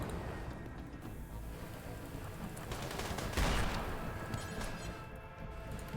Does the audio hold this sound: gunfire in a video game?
yes